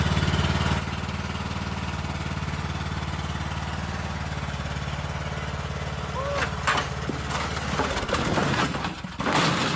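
A lawn mower engine runs with a steady, droning low hum while it is loaded onto a car over two wooden boards on a farm. Clattering and knocking noises break in toward the end.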